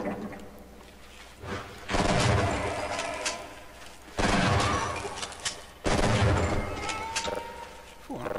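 Heavy gunfire in the shooter They Hunger comes in three long, loud bursts of rapid booming shots, separated by brief quieter gaps.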